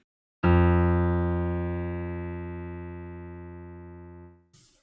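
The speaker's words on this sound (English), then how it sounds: "Notice how much longer the low notes take to decay away." A single low FM-synthesized piano-like note struck once, rich in harmonics, ringing out and slowly decaying for about four seconds before cutting off.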